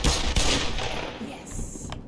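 Gunfire in the Black Mesa video game, a short burst of loud close shots at the start followed by echoing tail and ambient game noise, no talk.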